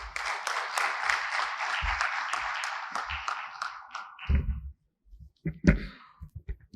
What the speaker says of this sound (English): This round of applause actually indicates how informative it was and how enlightening it was for all of us.